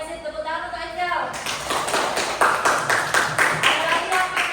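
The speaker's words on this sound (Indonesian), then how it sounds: "tepuk tangan untuk Angel" A class claps for a student named Angel, with scattered hand claps that quickly build into brisk applause, close and fairly loud. A voice speaks before the clapping begins.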